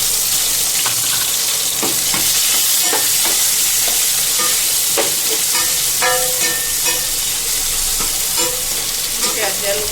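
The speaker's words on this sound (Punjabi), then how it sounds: "ਫਿਰ ਅਸੀਂ ਪਾਵਾਂਗੇ ਦਾਲਚੀਨੀ ਹੁਣ ਅਸੀਂ ਪਾਵਾਂਗੇ ਪਿਆਜ਼" Cinnamon and onion hit hot oil for an aloo shimla mirch curry, producing a loud continuous sizzle with scattered clinks and scrapes of a spoon stirring, close and steady.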